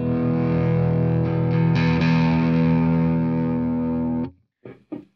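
Reverend Charger RA electric guitar with a P90 pickup played through a distorted amp, a loud, sustained gritty chord ringing for about four seconds, then cut off, followed by two short muted stabs.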